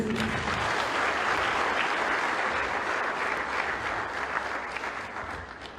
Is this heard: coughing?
no